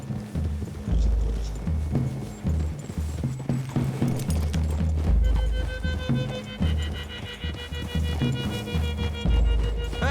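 Steady clip-clop of hooves from several horses walking in Red Dead Redemption 2, with a low rumble and scattered clatter throughout.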